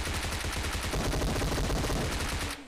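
Sustained automatic M416 rifle fire in the PUBG battle royale game, a dense rapid burst of shots lasting over two seconds before cutting off abruptly, loud and close with no talk.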